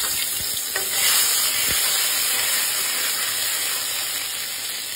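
Nigella seeds sizzle in hot oil with a loud, steady hiss, and a couple of brief clicks from a spoon or pan sound near the start.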